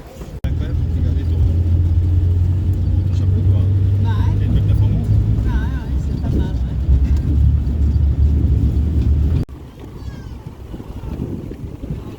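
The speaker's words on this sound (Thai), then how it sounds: "เรานั่งรถสองแถวกันไปท่าเรือค่ะ" A songthaew pickup truck carries passengers toward a pier, its engine droning low and steady with wind buffeting the microphone, while people talk over the ride; the rumble drops off abruptly near the end.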